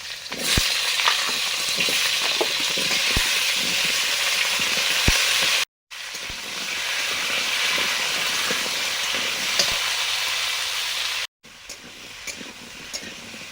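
Pumpkin sizzling and frying in hot oil with dried red chili and Bengali five-spice, a steady loud crackle with occasional stirring clinks, broken by two brief silent gaps.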